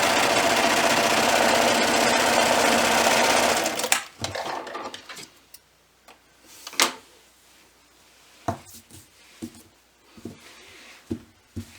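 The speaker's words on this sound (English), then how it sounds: "you do want to make sure that you are sewing over both of these edges through all the layers" A sewing machine runs steadily through the layered edges of a fleece blanket for about four seconds, then stops, and scattered clicks and light handling noises follow.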